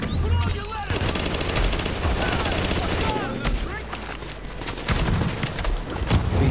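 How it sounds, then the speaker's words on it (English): Rapid gunfire in The Division video game, the player being shot from behind, with dense bursts of automatic fire crackling continuously and loudly throughout, mixed with game effects. "Being shot from behind."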